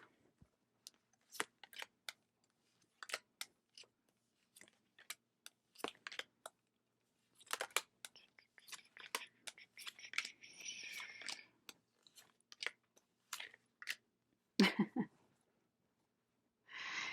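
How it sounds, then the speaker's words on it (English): A deck of tarot cards being cut and shuffled by hand, producing soft riffles, taps and quick rustling bursts with pauses between them, close and fairly quiet, with no talking. "Okay, just cut the deck."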